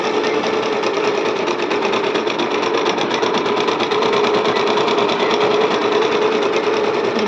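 A sewing machine stitches a fall onto a saree, running steadily and close with a continuous, even whir and rapid needle rhythm throughout, with no talking.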